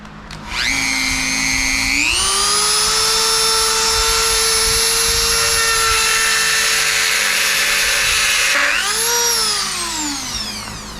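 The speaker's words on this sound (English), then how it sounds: "I'm just gonna go to town with the Dremel and make a nice good slot into this" A Dremel rotary tool grinding a slot into a bearing from a differential rebuild, a loud close high-pitched whine that holds steady, climbs in pitch early on, then dips and rises again near the end.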